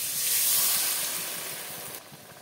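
Water splashes into a hot pan of fried potatoes and spices, setting off a loud, steady hiss and sizzle of steam that eases off slightly toward the end.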